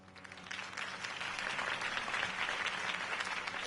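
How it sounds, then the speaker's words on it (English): Steady applause from a crowd following a mayoral campaign speech, building quickly and holding at a full, sustained clapping roar throughout with no talk over it. "could have heard that applause"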